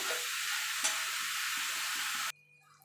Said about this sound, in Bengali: এবার ভালো করে মিশিয়ে নেবো